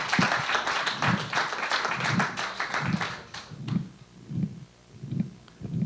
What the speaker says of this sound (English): Great. Thank you. Perfect. Applause.